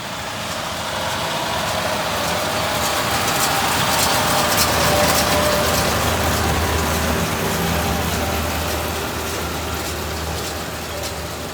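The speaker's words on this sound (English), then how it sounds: "Tractor's coming now." Tractor in a hay field during first-cut baling, its engine drone swelling steadily as it approaches and stays loud, heard alone with no talking.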